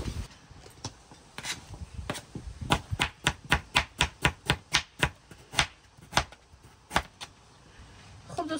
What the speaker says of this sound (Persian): تمام از زردک من توته کردم، البته با ماشینک چپس